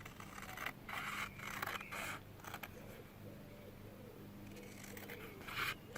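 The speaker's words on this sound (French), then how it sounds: "tu vas découper les bandes" Scissors snip through a paper square to cut it into strips, producing repeated short crisp cutting bursts at close range with quieter scraping between them; no one speaks.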